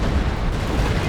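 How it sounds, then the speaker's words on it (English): Stuka rocket artillery barrage in Company of Heroes 2 rumbles as a dense, continuous wall of loud, close explosions with no clear gaps between blasts. "huge Stuka barrage there"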